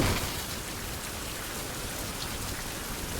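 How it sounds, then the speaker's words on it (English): Steady heavy rain pours in a dark, stormy survival video game, a dense continuous hiss with no voices over it. "it's very stormy."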